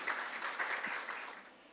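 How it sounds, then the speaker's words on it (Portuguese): An audience at an academic symposium applauds to welcome a speaker, a moderate, fairly distant clapping that fades gradually toward the end. "Recebam com uma salva de palmas, engenheiro Maurício Melo de Menezes"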